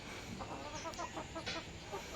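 Chickens on a village farm give a few faint, scattered clucks over a quiet, steady background.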